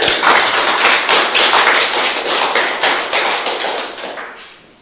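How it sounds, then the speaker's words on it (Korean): Audience clapping at an art exhibition in a Seoul gallery, a dense burst of many hands that holds steady for several seconds and then thins out and fades near the end, with no voices over it. "박수 한번 주세요"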